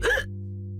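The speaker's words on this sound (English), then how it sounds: "Oh, how am I going to get rid of these hiccups?" A cartoon character gives a single short, sharp hiccup, close and clear, followed by a low steady hum.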